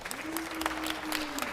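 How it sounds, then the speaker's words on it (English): Audience at a Los Angeles city council meeting clapping in a short scattered burst, moderately loud and close, with a sustained tonal hum running underneath. "Yeah, clap at me."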